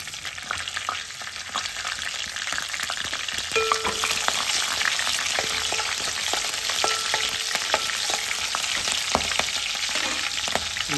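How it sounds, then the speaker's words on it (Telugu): Green chillies sizzle steadily in a hot pan of oil for a gongura dried-prawn curry, a constant close frying hiss with small crackles and no voices. "ఇప్పుడు పచ్చిమిర్చి కూడా యాడ్ చేస్తున్నాను."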